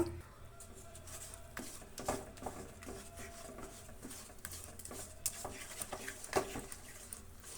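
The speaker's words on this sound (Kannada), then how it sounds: "ಈಗ ನೀಟಾಗಿ ಎಲ್ಲ ಕಲಿಸ್ತೀನಿ" Besan flour mixture for barfi is stirred by hand in a pot, giving repeated soft scraping and occasional light clinks of the spoon against metal, close and fairly quiet, with no speech.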